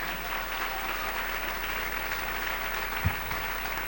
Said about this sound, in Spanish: Denle un aplauso al Rey en esta preciosa mañana.